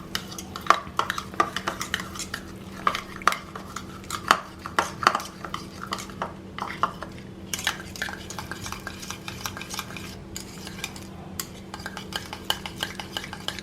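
Hung curd being beaten in a bowl, a fast irregular run of clicking and scraping taps from the utensil against the bowl, close and fairly quiet over a low steady hum, with no talking.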